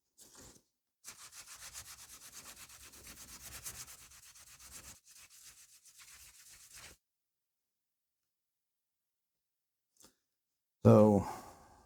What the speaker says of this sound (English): So now we're going to do some wet sanding.